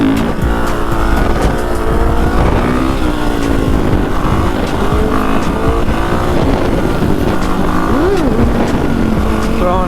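Dirt bike ridden through Chicago, its engine revving and droning continuously up close, with wavering pitch as the throttle changes and steady wind rush over the microphone.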